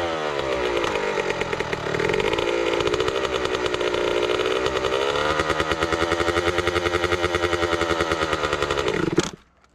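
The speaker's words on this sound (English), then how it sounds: "Welcome to the segment of the video where Carson stalls his bike 17 times." A Yamaha YZ65 dirt bike engine buzzes loudly and raggedly at close range for several seconds, then abruptly cuts out and stalls into near silence.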